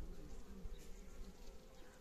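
Honey bees buzzing around a hive, a steady low droning hum of many insects that rises and falls slightly, heard close and alone.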